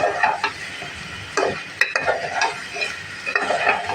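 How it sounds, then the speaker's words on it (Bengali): Potatoes being stir-fried in an oily spice masala in a pan, with a steady sizzle under repeated scraping strokes of a spoon at close range. "এখন আমি আলুটা অ্যাড করে দিব করে আমি সুন্দর করে কষিয়ে নিই"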